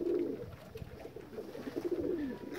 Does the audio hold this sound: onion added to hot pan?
no